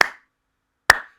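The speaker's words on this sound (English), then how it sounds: "kind of a clap sound, and this clap sound represents how the room reacts to the sound played on the speakers" Two sharp, close single hand claps land about a second apart in a room, each followed by a short reverberant tail that dies away into silence.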